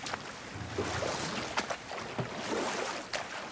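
A boat moving over water in the video game God of War, with a continuous wash of water and wind broken by several soft splashing strokes, fairly close, with no talking.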